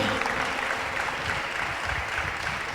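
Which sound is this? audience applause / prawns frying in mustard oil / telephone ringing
audience applause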